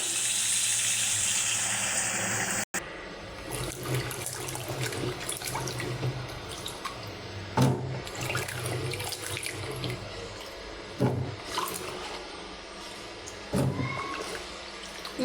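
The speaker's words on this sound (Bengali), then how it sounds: "এখন ধুয়ে নেব।" Tap water runs steadily into a sink while cut sweet pumpkin pieces are washed, with short splashing bursts and handling clatter throughout, close and fairly loud.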